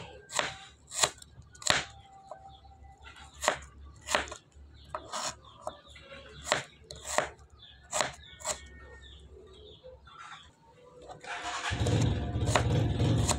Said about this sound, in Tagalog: malapit na tayo matapos mag-slice ng bawang at saka sibuyas guys